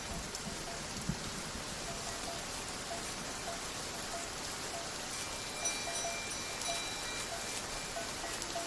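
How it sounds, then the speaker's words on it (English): A sudden highland downpour on open grassland, dense rain hissing steadily with a few faint clanks and bumps, fairly quiet and with no voices. "A downpour can start without warning."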